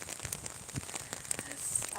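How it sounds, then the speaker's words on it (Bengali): Morning rain falls steadily outdoors as a soft, continuous patter with faint crackling drops, close by and fairly quiet. "সকাল সকাল ঘুম থেকে উঠে থেকে বৃষ্টি শুরু হয়ে গেছে"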